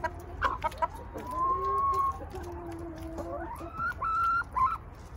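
Hens cluck and chatter close by in a backyard coop, a string of short rising calls and drawn-out squawks over a few seconds, fairly quiet with no talking.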